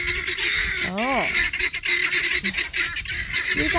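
A flock of guinea fowl calls loudly and continuously, harsh rapid honking cries close by, with a rising and falling squawk standing out partway through.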